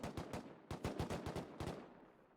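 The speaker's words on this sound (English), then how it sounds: "Just a lot of gunfire at the moment." Gunfire in a Rust 7v7 tournament match, with several rapid bursts of shots in quick clusters, faint and distant-sounding, tailing off near the end.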